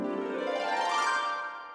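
A harp run sweeps upward in quick plucked notes, sustaining and shimmering for under two seconds before fading gently.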